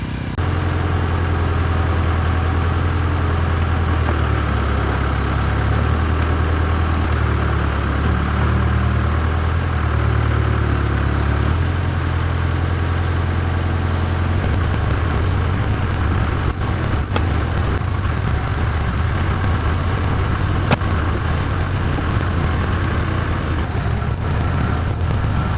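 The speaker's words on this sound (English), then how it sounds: "I'm gonna start, I think, maybe digging with the backhoe right here to get this section put in." A backhoe engine runs steadily at a sewer-line digging site, a loud low diesel rumble that shifts in pitch partway through, with rattling and clanking as the machine works.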